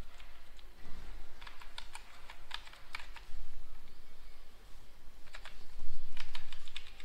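Computer keyboard typing in bursts of quick clicks with short pauses between, fairly close and steady, no voices, while file permissions are set in a shell script.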